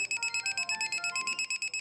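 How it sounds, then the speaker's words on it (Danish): A nursing home fall alarm sounds in rapid, evenly spaced high-pitched electronic beeps, about a dozen pulses in under two seconds, clear and alone with no talking. "det er ikke nogen helt almindelig alarm, for når plejehjemsbeboeren falder, så får personalet besked"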